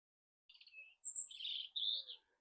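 At an 11th-century castle in County Down, Ireland, a bird chirps in spring with a few thin, high tweets and short trills. The call is faint and distant in an otherwise quiet setting.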